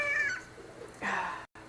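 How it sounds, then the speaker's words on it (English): A cat meows twice nearby, clear and alone: a drawn-out call, then a second, rising one. "I've got my cat again with me."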